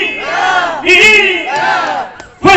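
A crowd at a 50th birthday party shouts rhythmic hurrahs for the birthday man, three loud, ringing group cheers in quick succession, each rising and falling with brief pauses between.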